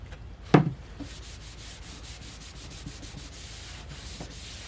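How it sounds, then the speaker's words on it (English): Saddle soap rubbed onto a leather belt by hand, a steady soft scrubbing texture in repeated strokes with one sharper knock near the start, close and fairly quiet, no voices. "I'm probably going to end up doing 2 coats of the saddle soap on it."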